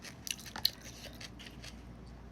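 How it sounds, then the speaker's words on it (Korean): Braised beef short ribs being eaten up close, with soft biting and a few crisp crunches and wet chewing sounds, quiet and irregular with no talking. "이제 고기 먹어보겠습니다"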